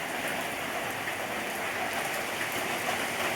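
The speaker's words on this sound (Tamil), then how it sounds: "மழையில பலாப்பழம் குளிக்குது" Rain falls on a jackfruit outdoors, a dense, steady hiss of drops with no pauses, fairly loud and constant throughout.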